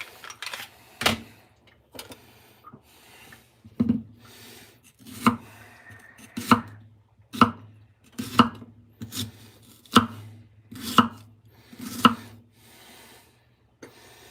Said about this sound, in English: I'll bring out my fine knife so I can slice up this garlic clove.